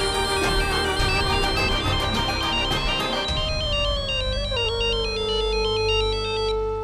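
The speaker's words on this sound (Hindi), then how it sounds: "फोन उठाओ प्लीज बेटा।" A loud electronic phone ringtone plays a repeating melodic pattern, changing to a higher chiming tune partway through, with no voices.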